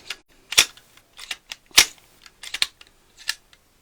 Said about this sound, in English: I can drop the mag, reload my mag, and close my bolt.